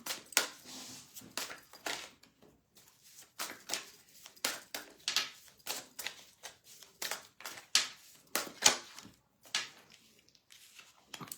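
Fairy tarot cards being shuffled by hand, a series of soft, close riffling and slapping bursts in an uneven rhythm, separated by short pauses of near silence.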